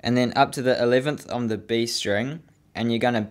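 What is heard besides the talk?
No distinct noise like a dog, phone or traffic.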